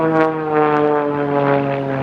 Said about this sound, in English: As he goes up, the airplane will come over the top, inscribing a beautiful loop in the sky.